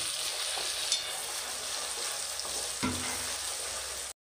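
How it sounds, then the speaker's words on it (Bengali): Onion paste frying in oil for a gravy, a soft, steady sizzle with occasional stirring taps, fairly quiet and unbroken, with no talk, until it cuts off abruptly. "তার জন্য তেলে দিলাম 4 চা চামচ পেঁয়াজ বাটা। পেঁয়াজটা বেশিক্ষণের জন্য ভাজতে হবে না।"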